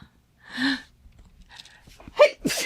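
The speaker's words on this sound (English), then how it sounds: "Oh, I always sneeze twice." A single close sneeze with a sharp intake before it, followed by soft breathy sounds and a brief vocal exclamation.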